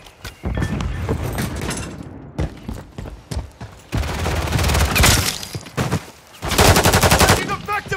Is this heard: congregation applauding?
no